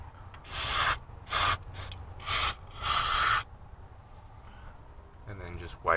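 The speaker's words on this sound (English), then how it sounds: "You just spray it." Cleaner sprayed in several short bursts onto the throttle body of a 1999–2004 Jeep Grand Cherokee, five hissing blasts close by, with a brief softer scrape at the end.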